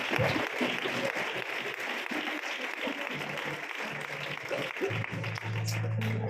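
A congregation at a church gathering breaks into sustained applause, a dense, steady wash of many hands clapping that carries on for several seconds.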